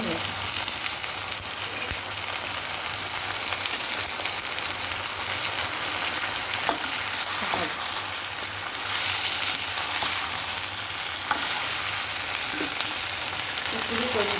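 Steady, dense sizzling of cauliflower, potato and tomato frying in a pan, continuous and close with faint stirring scrapes and no talk.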